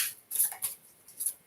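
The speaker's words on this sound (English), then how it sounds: "I'm going to shuffle." A deck of cards is shuffled by hand in a quiet room, giving a few soft, quick riffling bursts close up with no talking.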